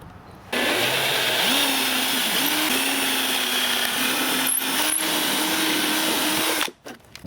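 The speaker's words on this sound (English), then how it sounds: "I'm just going to drill 2 holes in this guy right there" A power drill whirs continuously for several seconds at close range, drilling holes in an RC boat hull, its motor pitch wavering slightly, then cuts off abruptly.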